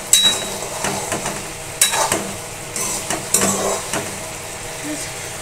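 Aloo posto, potatoes in a poppy seed paste with green chillies, bubbling and sizzling in a pan, a steady soft simmer broken by scraping stirs and occasional utensil knocks against the pan.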